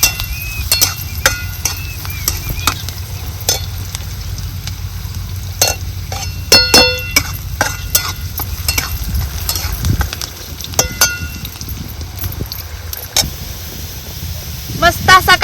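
Onions fry in a pan, a steady low sizzle underneath occasional sharp scrapes and clinks of stirring, heard close with a faint background hum.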